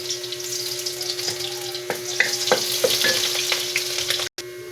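Garlic frying in a pan, a steady close sizzle with scraping stir strokes and a brief dropout near the end, no talking.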